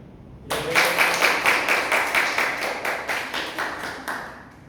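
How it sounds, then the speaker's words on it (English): Audience applause at a Toastmasters club meeting in Jakarta, starting abruptly after a brief pause and continuing as steady, moderately dense clapping with a rhythmic pulse before tapering slightly. "give a big round of applause once again"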